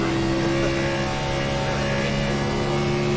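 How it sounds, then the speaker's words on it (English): A race car in an online racing league video game holds a loud, steady engine drone with a sustained tonal whine, the throttle smooth and even, close and continuous without speech. "You can listen to his car. He's just so smooth on his throttle control."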